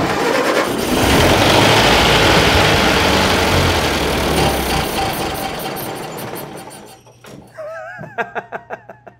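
A 1930 Ford Model A sedan's engine runs loud and rough, then dies away; a few sputtering pulses follow as it shuts off, with brief voices near the end.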